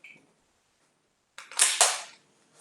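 A pistol magazine slammed into the grip during dry fire practice, giving a quick close metallic click-clack of two rapid impacts after a brief silence, with a faint tick at the start.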